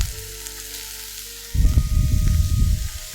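Onions hit a hot stir-fry pan already cooking green vegetables, bursting into a loud, crackling sizzle halfway through after a quieter low hum, then frying steadily and close.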